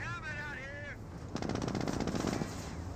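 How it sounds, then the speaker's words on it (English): Rapid rifle and machine-gun fire from Panzer Grenadiers in Company of Heroes, a quick rattling burst starting after a short pause and continuing steadily over game ambience. "Engineers may receive a bit of fire from the Panzer Grenadiers."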